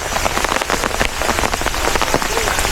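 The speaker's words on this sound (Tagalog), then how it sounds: "Malakas pa rin yung ulan, as you can see." Heavy rain pours steadily through a bamboo forest in Kyoto, a dense close hiss of drops pattering on leaves and umbrellas, with faint voices mixed underneath.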